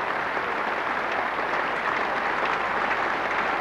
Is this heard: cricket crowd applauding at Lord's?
yes